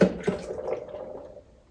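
Water is poured into a blender jar for chocolate almond milk, a brief close splash that tapers off into faint trickling within two seconds.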